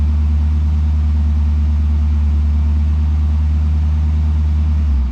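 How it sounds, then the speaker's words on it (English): A flood-damaged Chevrolet Camaro ZL1 engine idles steadily and loudly up close, a constant low rumble that holds evenly throughout before dropping slightly at the very end. "let it go and let it idle for 10 seconds"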